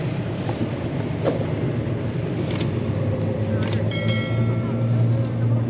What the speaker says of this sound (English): Big boat.